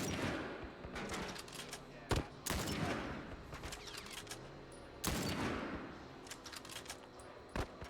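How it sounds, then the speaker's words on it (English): Bursts of enemy gunfire fill a firefight in The Last of Us, with dense crackling shots and a few louder sharp reports standing out over constant game noise and some talk. "So they'll shoot at this guy, but they won't kill him."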